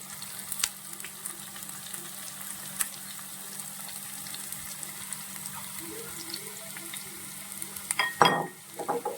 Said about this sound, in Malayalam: ഇത് രണ്ടും കൂടി നന്നായിട്ട് വഴറ്റിയെടുക്കണം